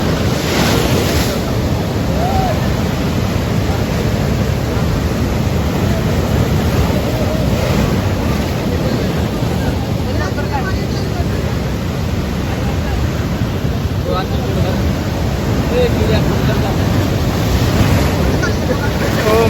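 Ocean waves surge and break at Harihareshwar beach during high tide, a loud continuous wash of surf with heavy wind buffeting across the whole stretch.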